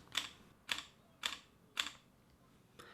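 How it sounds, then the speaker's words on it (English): Four crisp mechanical shutter clicks from a Panasonic Lumix DMC-GH5 camera sound at an even pace, about half a second apart, close and quiet, followed by a fainter fifth click. "This is how mechanical shutter sounds."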